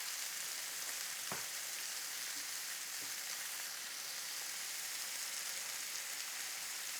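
Shrimp frying in a pan, a steady dense sizzle and crackle with a couple of faint taps, continuous and close, no talking.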